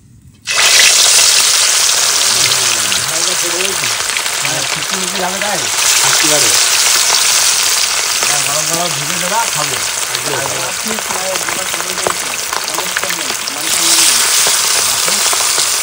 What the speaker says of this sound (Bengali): তেল কিন্তু গরম হয়ে গেছে, আর প্রথমেই দেবো গুড় মাছের লেজ।